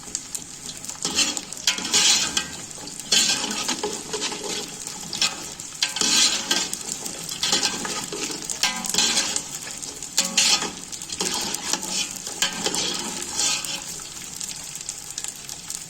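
Ingredients frying in hot fat in a pan until they puff up, giving a continuous crackling sizzle with repeated surges and occasional utensil scrapes.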